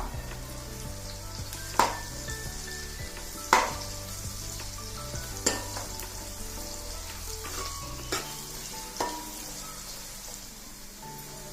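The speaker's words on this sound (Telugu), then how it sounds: "కొంచెం కరివేపాకు వేసి కొంచెం వేగనిద్దాం." Curry leaves sizzling steadily in hot oil, a dense crackling fry with a few sharper pops and clinks standing out over a constant low background hum.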